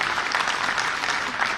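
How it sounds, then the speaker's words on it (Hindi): A large audience claps continuously and loudly in a hall at a Bar Association event on the Constitution and Ambedkar, dense even applause throughout. "आप इनके लिए भी जोरदार ताली बजा दीजिए"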